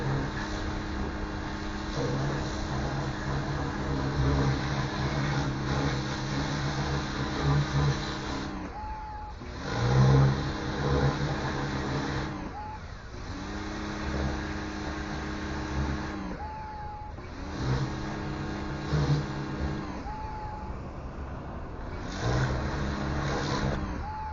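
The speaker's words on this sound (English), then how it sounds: "Best kind of tips to have on any pressure washer: turbo nozzle, so it spirals." A pressure washer fitted with a turbo nozzle rinses an aquarium, its motor droning loudly and steadily in repeated bursts with short pauses between sprays.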